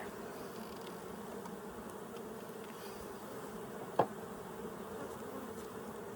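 Honeybees buzz steadily around an open hive in Colorado, a dense, continuous drone close to the microphone, with one brief sharp tap partway through.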